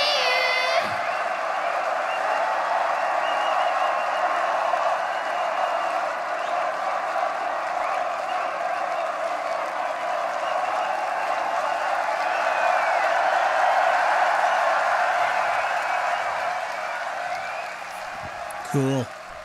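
A concert crowd, heard from within a large audience, keeps up a steady wash of applause and cheering for about eighteen seconds, with scattered whoops rising above the roar before it briefly drops off near the end.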